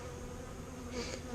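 Honeybees buzz steadily around a newly installed hive, a dense continuous hum close by that swells slightly near the end, with no voices.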